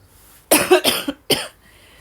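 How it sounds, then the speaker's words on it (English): Several harsh coughs close to the mic, a quick pair followed by a single cough after a brief pause. "Please excuse the coughing"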